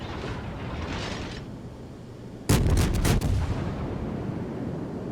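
Naval guns in a video game fire shells in a sudden loud salvo of several heavy booming shots close together, rumbling on afterward over steady ocean and engine ambience.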